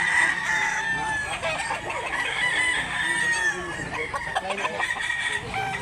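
A gamefowl rooster on a farm gives a long, loud crow nearby, then softer clucks and scuffling follow, with faint background noise and no clear talk.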